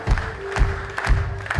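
Audience applause for a singer, a brief burst of scattered clapping from a crowd with a faint sustained tone beneath.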